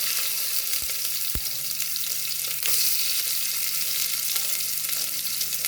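Mustard seeds and chopped onion frying in hot oil for a soya kurma, a steady close sizzle throughout with a couple of sharp pops and occasional stirring clinks, no voices.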